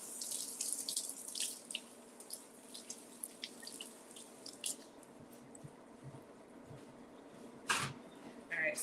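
Water runs steadily from a kitchen tap while vegetables are rinsed underneath, splashing and trickling with soft drips and squishy handling noises, close and fairly quiet, with no talking.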